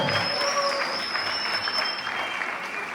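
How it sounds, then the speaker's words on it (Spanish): Church congregation giving loud, sustained applause, a dense wash of many hands clapping at once without pause, with faint voices mixed in. "aplauso fuerte al Señor"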